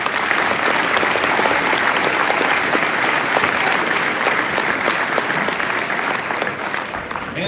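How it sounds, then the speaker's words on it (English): Loud, dense crowd applause at a high school athletic hall of fame ceremony, a sustained roar of many hands clapping together that stays full throughout and eases slightly at the close. "a round of applause for Dan Dimmick"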